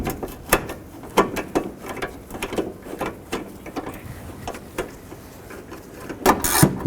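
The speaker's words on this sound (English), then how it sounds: "We're using a regular hand ratchet because we don't want to over tighten this." Hand ratchet snugging a headlight bolt on a 2007–2011 Honda Civic, a quick rhythmic series of close clicking strokes with brief pauses, ending in a louder burst of clicks.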